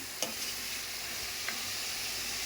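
Chicken frying in a pan with turmeric added gives a steady sizzle, with a couple of faint scrapes as it is stirred.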